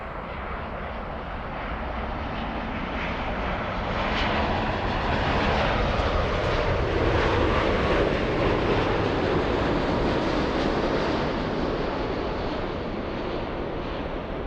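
A Boeing 787-9 airliner takes off from runway 24 left at Los Angeles, its engines a broad, steady roar that swells after a few seconds and holds strong and close throughout.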